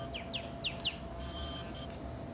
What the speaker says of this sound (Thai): รับโทรศัพท์ก่อนได้ครับ